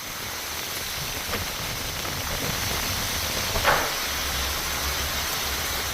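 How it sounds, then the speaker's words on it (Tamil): Heavy rain driven by wind falls steadily over Chennai, a dense, continuous hiss at constant loudness with no breaks and a faint low rumble underneath. "காற்றுடன் கூடிய கனமழை பொழிந்தது."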